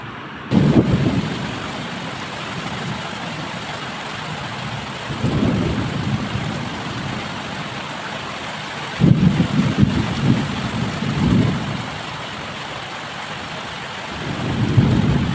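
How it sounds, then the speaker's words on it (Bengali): Heavy rain pours steadily during a thunderstorm, with several deep rumbling swells of thunder rising and fading at intervals over the constant hiss. "এই হারে বৃষ্টি হচ্ছে।"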